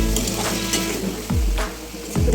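Fish pieces with spices fry in a pan with a loud, continuous sizzle, punctuated by a few sharp scrapes and knocks of a utensil against the pan; no talking.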